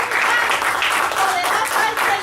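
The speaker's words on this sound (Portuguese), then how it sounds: "las palmas son para Cristo" A church congregation applauds for Christ, a loud, continuous wash of many hands clapping with a few voices mixed in.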